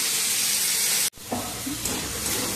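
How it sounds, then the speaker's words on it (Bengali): Prawns frying in hot oil seasoned with turmeric, a steady loud sizzle and hiss that cuts out briefly, then resumes with bubbling crackle close by. "চিংড়ি মাছগুলো ভাজছি"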